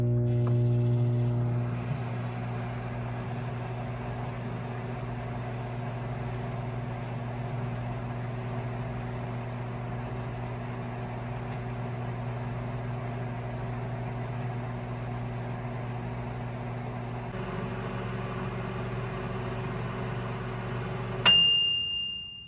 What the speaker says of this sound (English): we're going to turn the dial to 2 minutes.